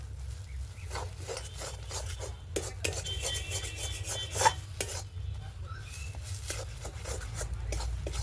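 Peas dry-frying with salt in a pan in a village Bengali kitchen, stirred steadily with a utensil, giving repeated scraping and rasping strokes over a continuous low sizzle, close and moderately loud, with no talk.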